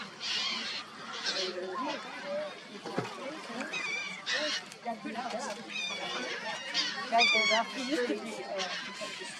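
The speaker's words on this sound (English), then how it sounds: "Look how happy the birds are." Birds honk and squawk repeatedly, goose-like calls overlapping in a noisy flock, with people talking over them nearby.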